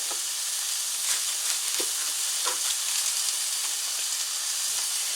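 Ground beef frying in a pan with no added oil, a steady bright sizzle and hiss with small pops and crackles throughout, close and continuous.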